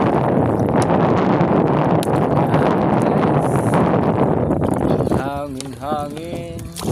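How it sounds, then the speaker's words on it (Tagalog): Wind gusting across a river swimming spot, a loud steady rush buffeting the microphone for most of the stretch, easing near the end as a voice speaks over it. "Hangin."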